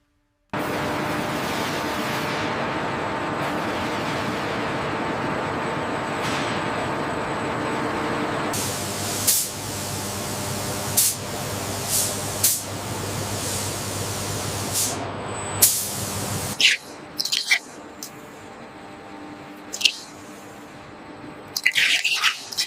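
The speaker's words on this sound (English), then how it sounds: "Primer coating is applied to prepare the aluminum surface for final exterior painting." A steady hiss of spray coating primer onto the aluminum body of a CR400 high-speed bullet train in a factory, continuous at first, then broken into short bursts among scattered clanks and drips.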